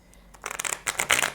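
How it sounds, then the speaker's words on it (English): A deck of cards being riffled and shuffled, a quick fluttering burst of papery snaps that builds over a second or so. "I'm doing a shuffle for Virgo, please."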